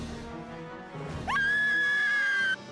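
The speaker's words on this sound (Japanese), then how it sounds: "声っていうか悲鳴だよな" A sharp, high-pitched scream cuts in from the Valkyria Chronicles 4 video game, holding loud and steady for just over a second before stopping abruptly, with a faint murmur of background sound before it.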